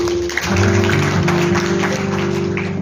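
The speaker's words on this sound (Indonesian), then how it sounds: "Berikan tepuk tangan bagi Tuhan" Congregation applauding for God during a church worship service, a steady wash of clapping over sustained music tones, filling the hall for nearly three seconds.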